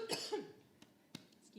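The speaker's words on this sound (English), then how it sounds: "I'm going to cough" A person coughs, with a couple of quick close coughs at the start and a few sharper single coughs after, in a quiet room.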